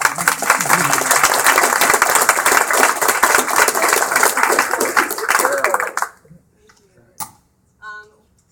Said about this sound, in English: please have a quick round of applause.